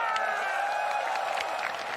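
At a Dota 2 International event in Singapore, a large crowd applauds and cheers in a dense, continuous wash of clapping and shouts, sustained evenly throughout.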